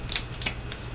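Craft material snipped with scissors, giving a few quick, close crisp cuts over a faint steady background hum, with no talking.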